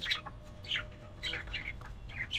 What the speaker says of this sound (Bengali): তো এক এক করে সব কবুতরে জল দিয়ে দিতেছি, দেখা যাক। হ্যাঁ, কবুতর খাওয়া স্টার্ট করছে।